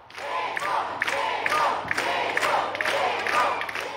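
A crowd of fans cheers and shouts steadily throughout a concert in Bielefeld, with loud, dense roaring voices and a few sharper peaks rising out of the noise.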